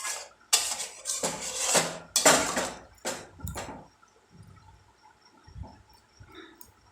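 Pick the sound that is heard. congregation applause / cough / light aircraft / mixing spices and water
mixing spices and water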